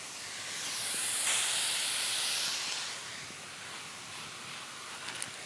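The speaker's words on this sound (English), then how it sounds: "now that we got those onions on the grill, we are gonna be adding our collard greens" Onions with collard greens added hiss on a grill, a broad steamy sizzle that swells loudly for a couple of seconds, then settles to a softer hiss with a few small clicks at the end.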